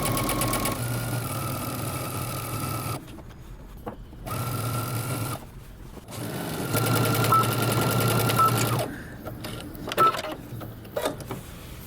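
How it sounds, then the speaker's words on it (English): A sewing machine runs in bursts, stitching around a jeans waistband with its facing, at a steady whirring hum. Several runs are broken by short pauses, and the last stretch ends in a few sharp clicks. "we're going to stitch all the way around using 5/8 of an inch seam allowance"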